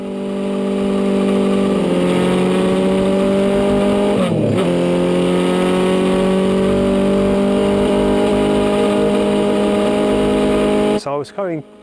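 Honda RC181 race replica motorcycle lapping a circuit, a loud sustained high-pitched engine howl with a brief gear-change dip, then a closing burst as it passes.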